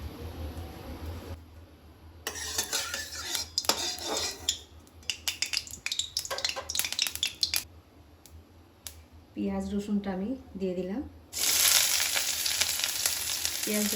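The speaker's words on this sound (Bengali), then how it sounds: "কড়াইটা গরম হয়ে গেছে এখন আমি ওই ভেজে নে মশলাটা কষিয়ে নেব সর্ষার তেলে" Spices and garlic sizzle in hot mustard oil in a kadai, heard in bursts with clinks of a spoon against the pan and a brief high hiss near the end; a voice talks in between.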